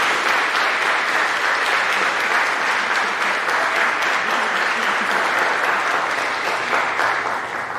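A large audience at a senior awards ceremony claps for the honor students, a loud, dense and sustained round of applause that continues evenly throughout without talk.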